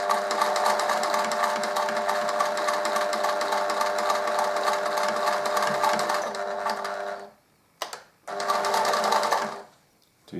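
A sewing machine stitches reinforcing tape along a trouser hem, running loud and steady for about seven seconds, then stopping briefly, giving a short burst and running again before cutting off.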